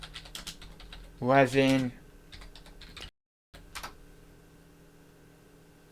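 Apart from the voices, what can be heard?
typing on a computer keyboard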